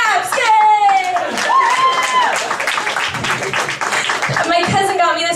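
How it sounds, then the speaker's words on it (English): Applause during a stand-up comedy set at Flappers, a crowd clapping and cheering in a full burst, with a voice speaking and laughing over the start and end. "Claps, yay!"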